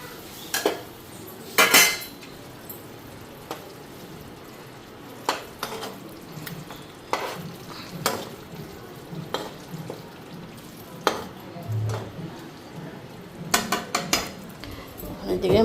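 Fish and onions fry in a pan with chilli powder, a low sizzle running beneath repeated clinks and scrapes of a metal spatula against the pan, fairly close.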